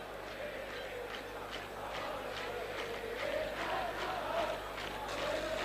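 A large football crowd in a stadium at a cup final between Chelsea and Real Madrid roars continuously, with rhythmic chanting swells and shouts rising over a steady wash of noise.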